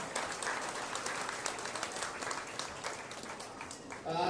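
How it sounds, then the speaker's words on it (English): Audience applauds three young showmen in the show ring at a county livestock show with goats and lambs, a steady crowd clapping that rises near the end, with a voice faintly over it. "let's go ahead and give these three young men a big round of applause for making it out here"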